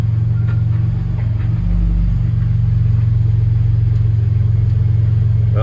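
A 1966 Ford F100 pickup fitted with a Raptor engine and 10R80 transmission, sitting in a shop, idles with a loud, steady, close low rumble, briefly deepening as it is put in gear and starts moving.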